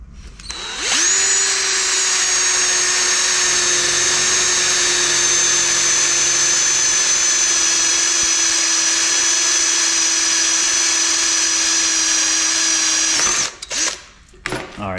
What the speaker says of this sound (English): I've got the drill, 9/32 bit in it.